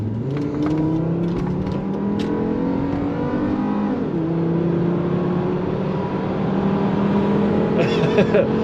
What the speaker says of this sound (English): Let's mash the gas and see how this thing accelerates.